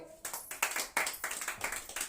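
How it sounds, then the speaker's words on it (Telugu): A church congregation claps their hands together in a quick, steady rhythm, dense and close, with several strong beats over about two seconds. "చప్పట్లు కొట్టండి."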